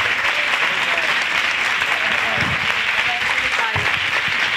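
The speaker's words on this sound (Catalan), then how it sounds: "Un aplaudiment" An audience at a social theatre event claps in steady, loud applause, with voices murmuring beneath the clapping.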